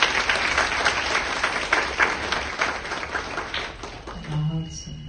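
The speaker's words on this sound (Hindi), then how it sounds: "तो अपने लिए ताली बजाइए।" An audience claps at a spiritual gathering in Delhi, a dense burst of applause that gradually thins out toward the end as a voice starts to speak.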